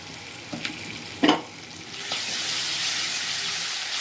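A spoonful of ginger garlic paste fries in a pan for a chicken gravy curry, with a couple of stirring clunks early on, then a loud steady hissing sizzle swelling up and holding close by, with no talk.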